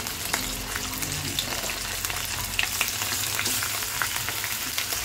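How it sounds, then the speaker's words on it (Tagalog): Chicken and pork adobo fries in hot oil, giving a steady, close, dense sizzle with scattered sharp pops and crackles of splattering fat, heard alone without talk. "Tsaga-tsaga lang guys sa pagprito kasi talagang kumitilamsik ng mantika."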